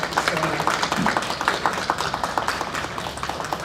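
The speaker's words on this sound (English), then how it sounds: "Let's give all of our heroes another big round of applause." Audience applause fills a city council chamber in Pine Bluff as people honor local heroes: a dense, steady patter of many hands clapping throughout, fairly close and sustained.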